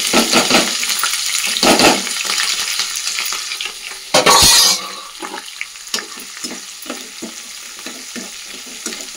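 Onions fry loudly in a pan for a tomato rice dish, a close crackling sizzle broken by scraping stirs and a brief louder burst, then easing into lighter popping.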